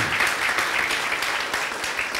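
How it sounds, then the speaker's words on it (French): A seated audience applauding and cheering themselves at a motivational talk, dense steady clapping filling the room at close range with no break. "Et vous pouvez vous acclamer vous-même. Non, acclamez-vous sérieusement."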